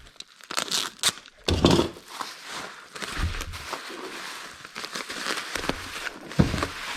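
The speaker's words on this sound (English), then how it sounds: "That should give it a nice coat of bubble wrap." Bubble wrap crinkling and tape tearing while a package is wrapped for shipping, close and irregular, with rustles, crackles and a few sharp rips.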